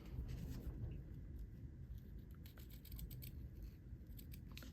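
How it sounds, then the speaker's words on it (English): Scissors cutting a dovetail shape through paper on a desk, a soft continuous snipping and rustle, faint and close, with no talk. "Just cut up through the center."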